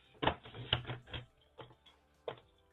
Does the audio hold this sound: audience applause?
no